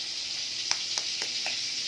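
A pot of water bubbles near a boil as an egg goes in to cook for instant noodles, a steady hiss with four soft, evenly spaced taps or pops and no talking.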